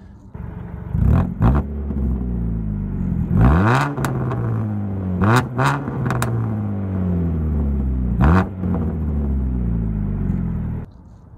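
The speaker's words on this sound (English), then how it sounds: "this one is actually an aftermarket exhaust, and I think I'll throw up a little sound clip of what that sounds like" A 2015 Dodge Dart with a deep aftermarket exhaust revs repeatedly, pitch sweeping up then falling back into a loud, rumbling idle between bursts.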